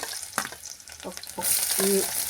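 Ginger and garlic sizzle in hot oil for a Kerala mango-flavored sardine curry, a close, steady frying hiss with a few stirring clinks that swells louder near the end.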